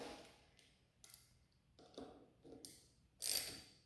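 Socket wrench ratchet tightening the bolt on an aftermarket brake lever for a 2022 Kawasaki KX112 dirt bike, a few quiet short clicking bursts in an irregular rhythm, close and faint, with no talk.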